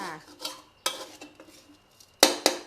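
Crispy fluffy catfish tossed in a pan, with sharp metal spatula scrapes and clanks against the pan in irregular bursts over a faint frying hiss, close by.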